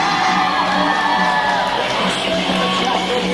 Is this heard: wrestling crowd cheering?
yes